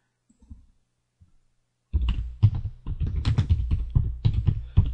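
Rapid typing on a computer keyboard, close and fairly loud, a dense run of clicking keystrokes after a few faint isolated taps and a short quiet pause.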